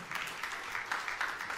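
Applause from a church congregation during a sermon, a dense patter of hand claps that swells and dips in waves through a short stretch, moderately loud and steady.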